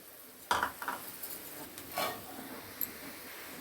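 Peanuts and chana dal tipped into a pan of oil for poha, giving a few sharp rattling clatters followed by soft sizzling and light stirring scrapes, close by.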